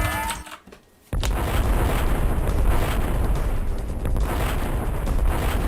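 Weapon fire and explosions in the zero-gravity shooter Descent (1995), a dense continuous roar of booms and blasts that cuts in after a brief quieter moment and stays loud throughout.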